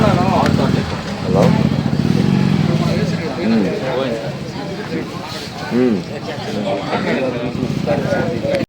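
A scooter passes along a street with a loud, close engine hum that swells early and then settles, while people talk over it.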